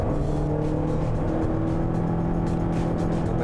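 A Toyota Corolla Cross crossover engine roars with a steady, continuous drone and faint whine, heard at moderate loudness from inside or near the car with no talk over it.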